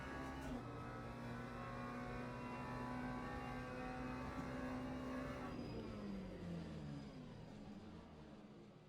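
A car in a racing video game brakes hard to a stop: a steady engine drone holds, then its pitch sweeps down and the tone fades away toward the end, with no one talking.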